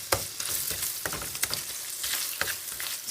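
Sausage frying in grease in a pan gives a close, steady sizzle with sharp crackling pops at irregular moments and a few stirring scrapes, and no one talks.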